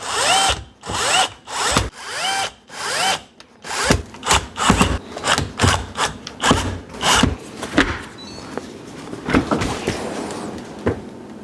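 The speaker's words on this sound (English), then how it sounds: "So now we'll put the screws in to secure it." A power drill drives screws to secure a dishwasher into the cabinet, with repeated whirring bursts that rise and stop in quick succession, loud and close, then trail into smaller scraping sounds.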